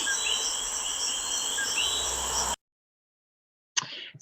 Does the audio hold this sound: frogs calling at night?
yes